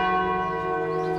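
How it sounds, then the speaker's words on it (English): A church bell rings in celebration, one loud, sustained, ringing tone that hums steadily throughout the brief moment. "Across Europe, church bells rang in celebration."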